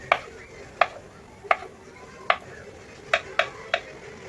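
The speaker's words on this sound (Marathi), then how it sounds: "पनीर व्यवस्थित बारीक कट करून घ्यायचं आहे" Knife cutting paneer finely on a board, seven sharp distinct chops at uneven intervals, close and clear over a quiet kitchen background.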